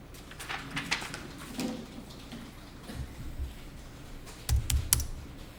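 Keys tapped on a computer keyboard during accounting software data entry, a scattered run of light clicks with a few heavier strokes near the end, close and fairly quiet, with no talk.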